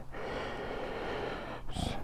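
A man breathing heavily in a garage, a long rushing exhale into the microphone followed by a sharp, quick intake of breath, close and loud, with no words spoken.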